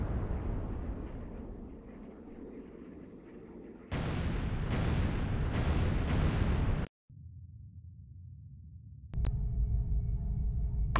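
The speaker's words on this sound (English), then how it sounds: "Loud explosion on the bearing of Master 2." A loud underwater explosion in a submarine combat game, heard as a dense roaring burst lasting a few seconds amid a low rumbling ambience, then cutting off to quieter engine noise.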